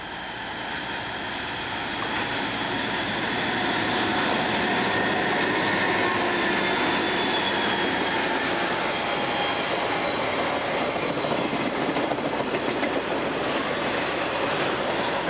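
A CSXT freight train led by two engines rolls past on the Plymouth Subdivision, a loud, steady rumble with rhythmic wheel clatter and faint squeals, building over the first seconds then continuing unbroken.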